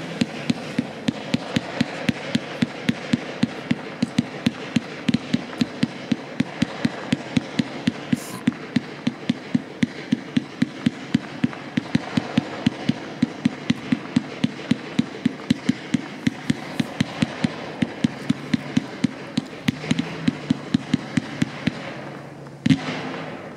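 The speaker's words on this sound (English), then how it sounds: "Next up is going to be the 100 shot Z-shaped blue mine with white stroke." A 100-shot Z-shaped blue mine firework cake with white strobe fires a long, rapid, evenly spaced string of sharp launch thumps for about twenty seconds, ending with a final louder pop.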